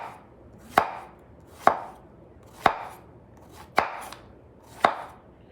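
Knife chopping through vegetables on a cutting board in a home kitchen, five sharp, evenly spaced cuts about a second apart, close and clear with no talking.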